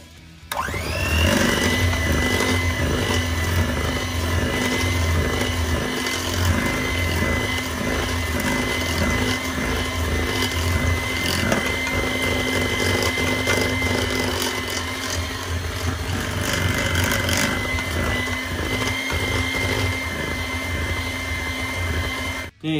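Electric mixer beating blueberry date loaf batter, a loud continuous motor whir with rattling and scraping of the beaters against the bowl, steady for the whole stretch with no talking.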